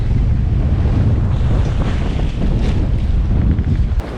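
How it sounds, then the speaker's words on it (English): Wind and building sea waves surround a sailboat on an overnight passage near a container-ship anchorage, with constant loud wind buffeting and rushing, churning water throughout, no voices. "the waves have increased"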